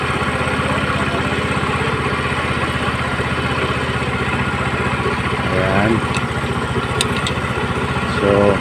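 A Rusi Gala motorcycle engine idles steadily during carburetor tuning, a continuous close rumble with even firing pulses throughout, with brief voices in the background.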